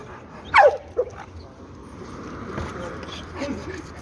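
A pitbull gives a sharp, loud yelp-like bark followed by a shorter whimper, then fainter whining continues at close range against background noise.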